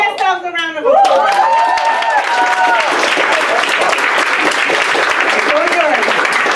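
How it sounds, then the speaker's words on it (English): A large crowd at a student leadership workshop breaks into loud, sustained applause right after a voice cheers, the clapping continuing steadily for several seconds. "Give yourselves a round of applause."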